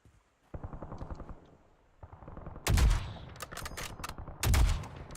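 Gunfire in Call of Duty: Warzone: two loud, close bursts of shots with sharp broadband cracks, set against quieter low rumbling game ambience, with no talking.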